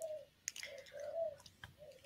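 Birds call outside, soft cooing notes like a pigeon or dove repeating at a moderate distance, with a few faint clicks and taps in between.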